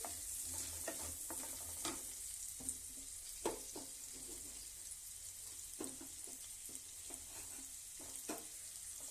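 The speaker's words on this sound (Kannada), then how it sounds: "ನೀರುಳ್ಳಿ ಹಾಕ್ತೀನಿ ರೀ ಇದು ಕಂದು ಬಣ್ಣ ಬರೋಂಗೆ ಬ್ರೌನ್ ಕಲರ್ ಬರೋಂಗೆ ಫ್ರೈ ಆಗ್ಬೇಕು ರೀ ನೀರುಳ್ಳಿ" Onions frying in a pan until brown for a paneer kofta gravy give a faint, continuous sizzle at close range, broken by irregular crackles and stirring scrapes, with no voices.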